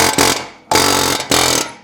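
A hammer bit strikes a wheel's brake rotor to knock it loose, producing two or three loud, sustained buzzing bursts separated by short gaps, close and harsh.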